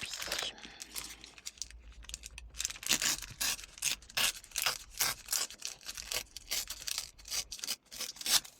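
Scissors snip through paper for a vintage junk journal book cover in a quick series of crisp, close cuts, with light rustling of the sheet between strokes.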